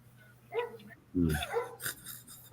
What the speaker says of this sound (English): That's the neighbor's dog barking.